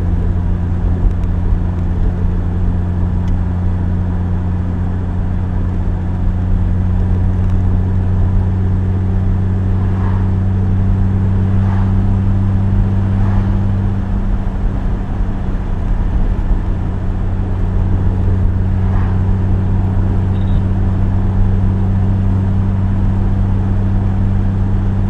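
A car driving along Little River Road south of Gatlinburg, heard from inside as a steady engine hum and road drone that runs loud and unbroken, with a few faint clicks along the way.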